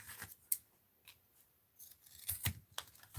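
Scissors snip through tape in a few quick, close, crisp cuts, with soft rustling around them and no talking.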